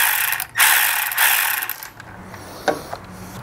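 A ratchet wrench tightens a worm gear hose clamp while an oil catch can is installed on a 2.0 turbo Jeep Wrangler. It makes a few close, loud bursts of mechanical clicking with short pauses between them and no talking.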